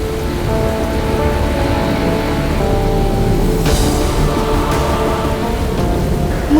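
Heavy rain pours down in a storm, a dense, constant hiss of water hammering on surfaces, steady and loud throughout, with a faint rumble beneath.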